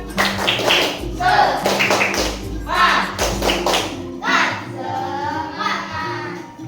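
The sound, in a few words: class doing an encouragement clap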